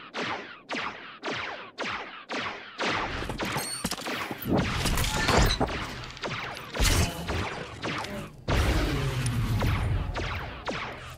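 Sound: turret firing on enemy ship in SWTOR video game

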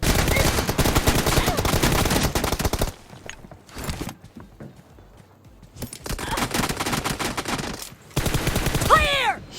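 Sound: pistol gunfire in PUBG Mobile video game

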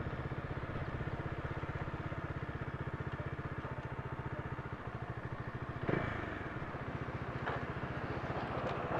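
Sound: Bajaj Dominar 400 motorcycle engine with stock exhaust

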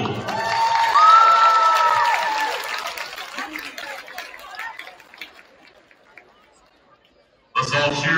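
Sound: crowd cheering and applauding for basketball squad

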